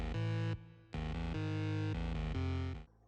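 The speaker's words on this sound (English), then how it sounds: "So I first layered the bass with like a normal sounding synth bass" A normal-sounding synth bass layer for a drum and bass track plays a few sustained, buzzy, harmonically rich notes with short gaps between them, loud and upfront with no other sounds.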